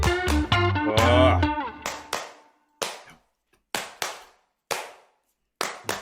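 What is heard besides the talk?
clap track in a rap song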